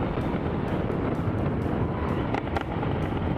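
A Triumph Street Triple 675 motorcycle engine roars steadily while riding, loud and continuous with heavy wind rush over the microphone.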